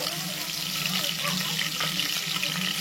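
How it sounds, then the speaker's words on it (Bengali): Chopped green chillies frying in hot white oil in a pan, a steady, close hiss and crackle of sizzling with no pauses, while someone talks over it. "কাঁচা লঙ্কাটাকে হালকা করে একটু ভেজে নেব।"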